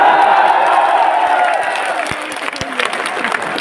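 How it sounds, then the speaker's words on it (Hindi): An audience at a meet-up in Agra applauds loudly in a dense wash of clapping that slowly thins, with a few scattered claps and cheers near the end while voices murmur underneath. "कितनी ताली बजाई है,"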